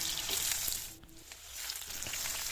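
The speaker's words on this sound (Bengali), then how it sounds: "কড়াইয়ে তেল গরম করে নিয়েছি এবং এখানে আমি ডুমো ডুমো করে আলু কেটে রেখেছিলাম, সেগুলোই প্রথমে আমি ভালো করে ভেজে নেব" Diced potatoes fry in hot oil in a wok, a steady close sizzle and crackle that holds throughout with a brief dip in the middle, no voices.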